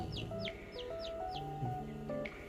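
Day-old chicks in a simple cement-ring brooder give a run of faint, high, repeated peeps in quick succession, with a soft background hum.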